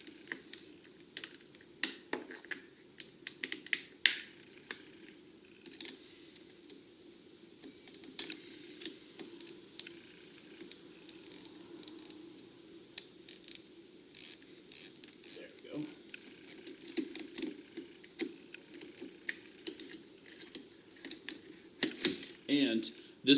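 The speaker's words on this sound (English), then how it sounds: "just for safety's sake, I'm also going to disconnect the positive terminal" Working the positive terminal off a car battery gives scattered close metallic ratcheting clicks and small clanks in irregular bursts, with a quiet hum underneath.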